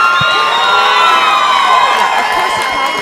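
A crowd at a live professional MMA fight cheers and shouts after a knockout, loud and sustained roaring with whoops rising above a dense wall of voices, close and continuous.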